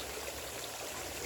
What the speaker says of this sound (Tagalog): Sige gyapon siya agas